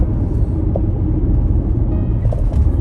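A car driving along a road past farm fields, a steady loud low rumble of the engine and tyres from inside the vehicle, with no talking.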